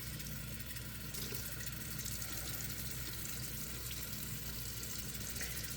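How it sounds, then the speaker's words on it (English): Very hot tap water runs steadily into a sink in a home crafting setting, a continuous broadband hiss and rush heard alone with no talking. "So again, my tap water is very, very hot."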